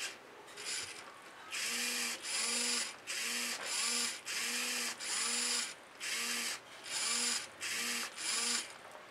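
Servo motor turning a DIY Arduino follow focus for a DSLR, a series of short whirring bursts with brief pauses in between, close and fairly loud, with a faint mechanical clicking.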